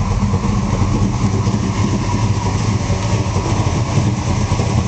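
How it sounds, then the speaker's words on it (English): A 600 hp engine in a 1955 Chevrolet Bel Air resto-mod with a lopey cam idles loud and close, rumbling steadily for the whole stretch with no talking. "Fires right up. Just an awesome lopey cam."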